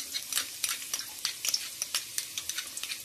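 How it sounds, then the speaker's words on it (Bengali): Chopped onions fry in a little oil in a cooking pot, giving a close, steady sizzle broken by sharp crackles and pops, with no voices. "পেঁয়াজ কুচিগুলো ভেজে নিচ্ছি।"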